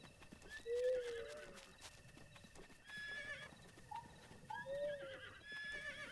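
A horse whinnies twice in Zelda: Breath of the Wild, each high drawn-out neigh ringing clearly over soft clip-clop hooves and outdoor ambience, with no talk.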